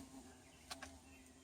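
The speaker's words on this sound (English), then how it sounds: "It's a big old wasp. It's like an orange wasp." A large orange wasp buzzing close by outdoors near a lawn tractor project, faint and quiet: two brief buzzy passes in quick succession over a low steady hum.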